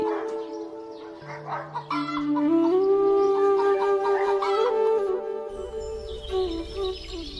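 Cartoon hens cluck in a short run of calls over a steady musical tone, moderately loud, with a low rumble coming in near the end.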